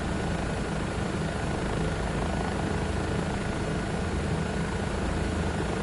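Bell 407 helicopter in the Microsoft Flight Simulator 2024 game, heard as a steady, loud broadband rotor and turbine roar that holds constant throughout with no talking.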